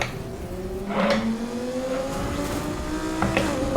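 A twin-turbo V10 race car in a Need for Speed game revs and climbs through gears, the engine note rising in steady sweeps with faint squeals, heard up close from the driver's seat.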